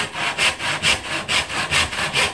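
An antique hand saw made in the 1840s, freshly sharpened and fitted with a new handle, cutting a half-lap joint in wood, with about ten loud, even rasping strokes in steady rhythm close by.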